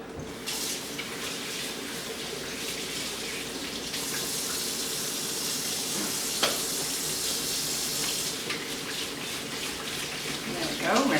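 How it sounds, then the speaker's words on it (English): Tap water runs steadily over hands at a kitchen sink during Pop Can Chicken prep, a continuous close hiss and splash with brief splattering bursts as the hands move. "There we go, rinse my hands off again."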